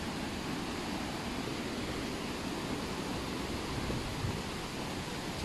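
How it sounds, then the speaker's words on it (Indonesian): Curug Sewu, the tallest waterfall in Central Java, roars as a constant, dense wash of falling water, loud and unbroken throughout with no voices. "Air terjun."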